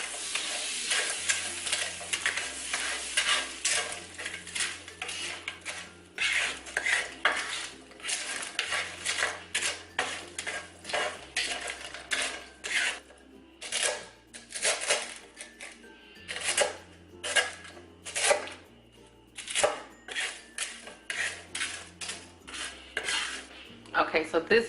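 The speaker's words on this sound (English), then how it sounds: "now I'm just going to heat my skillet back up and then toss them in this melted butter" Pork rinds tossed in melted butter in a hot skillet, with a soft sizzle under frequent clattering of utensils and pan, scraping and tossing in uneven bursts across nearly half a minute, close and without talk.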